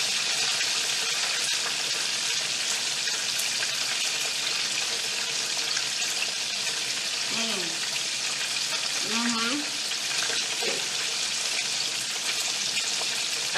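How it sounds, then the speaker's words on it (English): Home-style fried chicken sizzles in hot oil with a steady, close, crackling hiss throughout, while a voice briefly sounds in the middle. "I don't know if you can hear the crunching past the frying."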